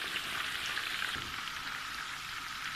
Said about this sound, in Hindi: ये देखें कोफ्ते सारे जो हैं ये फ्राई हो गए और कोई भी कोफ्ता जो है हमारा वो टूटा नहीं है, बहुत अच्छे से फ्राई हो गए